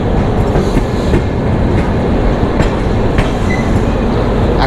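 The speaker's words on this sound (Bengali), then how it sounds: "এখন আমাদের শক্তিপুঞ্জ এক্সপ্রেস ট্রেন বেওহারি স্টেশন ছেড়ে এগোচ্ছে।" The Shaktipunj Express pulls out of Beohari station, heard from on board: loud, continuous rumble with rhythmic clickety-clack of wheels over rail joints and faint squeals.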